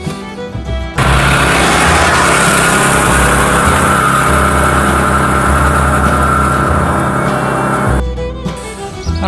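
A McLane reel mower is cutting very short grass on its lowest setting, giving a loud, steady whirring and clattering that runs for several seconds and then stops abruptly.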